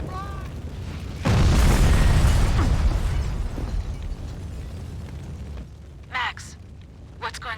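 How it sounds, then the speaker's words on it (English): A building packed with explosives blows up in the PC game Max Payne 2, a loud deep boom followed by a long rumbling tail and falling debris, with brief voices afterward. "The building's blowing up."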